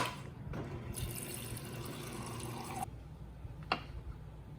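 Water runs from a tap into a glass for a couple of seconds, the tone rising as it fills, then stops; a small clink follows.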